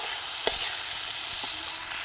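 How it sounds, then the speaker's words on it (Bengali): Boiled chickpeas fry with spices in a pan, giving a steady, dense sizzle with a couple of soft scraping stirs. "সিদ্ধ করে রাখা ছোলাগুলো দিয়ে ভালো করে নাড়াতে চাড়াতে থাকবো"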